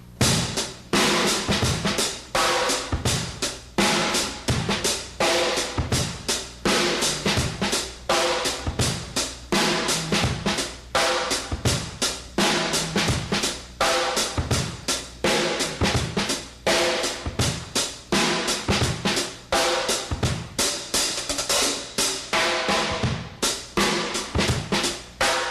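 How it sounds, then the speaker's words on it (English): A close, loud funky drum groove runs steadily, with loose snare grace notes and diddles across three snare tones over busy kick drum patterns, dense hits and no voices. "All those little snare things that I'm doing, utilizing the 3 different tones that I just showed you, and kind of slopping it up, really makes it funky."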